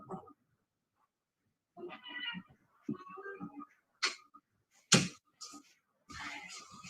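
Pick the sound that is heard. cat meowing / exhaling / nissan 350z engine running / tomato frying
cat meowing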